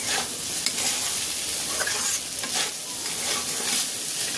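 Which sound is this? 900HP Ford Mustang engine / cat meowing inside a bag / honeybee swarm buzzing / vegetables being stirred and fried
vegetables being stirred and fried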